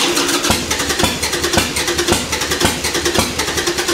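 A flooded Harley-Davidson Sportster engine cranks over without catching, the starter churning in a fast, regular chugging rhythm for four seconds, loud and close with no talking.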